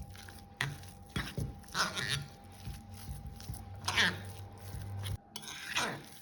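A spoon clinks and scrapes against a bowl while a curd batter is mixed with water, with irregular knocks and stirring strokes and a voice heard in between.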